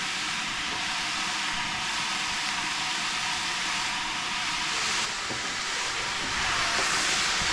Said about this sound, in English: I'm going to fry up the potatoes, saute them with the scallops and onions and garlic and everything.